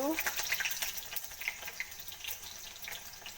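Chopped onion and garlic sizzle in hot oil, a crackling, bubbly frying sound with irregular pops and spatters that ease a little over the few seconds, heard up close without talk.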